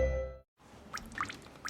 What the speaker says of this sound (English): Hey, it's your ceiling vent, so I'm dripping.